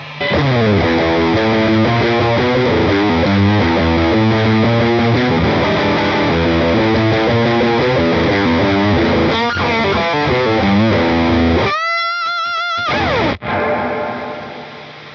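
Heavily distorted electric guitar chords through a Hughes & Kettner Spirit Nano amp head with gain at maximum ring out loud and saturated, with a brief break near the end before a sustained crunchy tone.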